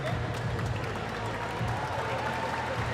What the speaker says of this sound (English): Round of applause for both the teams.